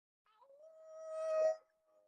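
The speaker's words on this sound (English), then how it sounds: "Did you hear that? It sounded like a coyote." Coyote howl, a single long rising and sustained wavering cry, fairly clear against quiet, swelling louder before cutting off sharply.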